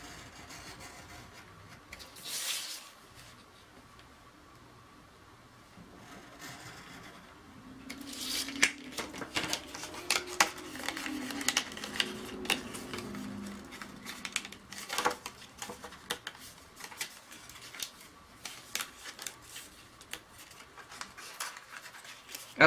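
A blade cutting a paper rectangle along a ruler on a craft mat, with quiet scraping and a flurry of close, sharp ticks and rustles as the paper is trimmed and handled.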